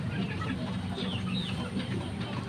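Backyard hens and roosters kept for breeding, clucking softly and intermittently in a steady jumble of farmyard noise, close to the microphone with no talking.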